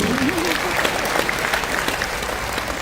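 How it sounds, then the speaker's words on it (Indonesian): A church audience at a Valentine family gathering claps together, a brief burst of dense, close applause running steadily throughout, with a faint voice briefly audible at the start. "Tepuk tangan, betul."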